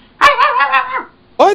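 Person mimicking a barking dog with a drawn-out growling yowl followed by a short sharp bark, loud and close, vocal imitation alone.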